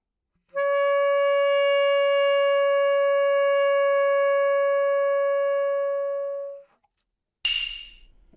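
A baritone saxophone holds one steady, loud altissimo note for about six seconds before it cuts off, followed by a short noisy burst.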